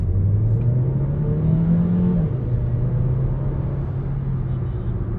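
A 2023 Mercedes-Benz A200 A-Class facelift with a 164 hp engine accelerating on the road, heard from inside as a steady engine drone that rises in pitch, drops briefly at a gear change, then holds under road rumble.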